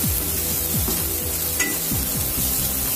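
Spices frying in hot oil in a pan for homemade fried rice from leftover boiled rice, stirred steadily with repeated scraping strokes over a continuous close sizzle, with no voices.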